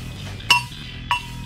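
A thick piece of scrap metal being made into a musical instrument, struck twice about half a second apart, each hit a sharp bright metallic clink with a short ringing tail over faint background noise.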